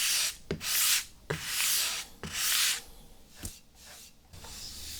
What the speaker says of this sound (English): I'm just using a new sheet of sandpaper here. It's 400 grit